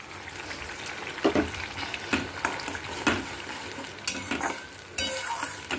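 A boiled and ground paste of garlic, green chilli and tomato sizzles in a pan, with a spoon scraping and tapping the pan roughly once a second over a steady frying hiss.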